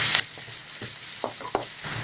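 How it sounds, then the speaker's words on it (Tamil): Sliced onions, curry leaves and green chilies hit hot oil with a short burst of loud sizzling, then settle into a softer frying hiss broken by a few stir clinks and pops. "இப்போ கட் பண்ணி வச்சுருக்கிற வெங்காயம் போட்டுக்கலாம். அது கூடவே கருவேப்பிலை, பச்சை மிளகாவும் போட்டுக்கலாம்."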